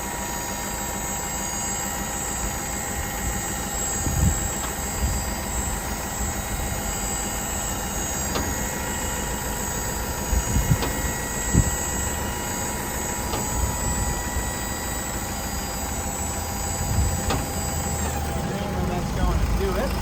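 A diesel engine on a 2017 Mitsubishi FE160 dump truck with a 10-foot dump body runs steadily while the hydraulic body raises, with a few dull clunks and someone talking over it.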